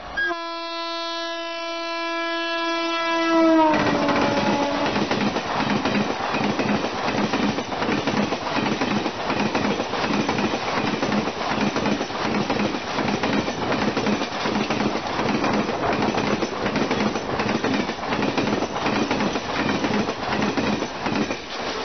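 A Secunderabad-Gorakhpur weekly superfast special passenger train sounds a sustained horn, then runs at speed with loud, steady rhythmic wheel clatter and rumble for the rest of the stretch.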